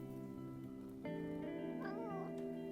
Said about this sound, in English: He's just constantly meowing at me.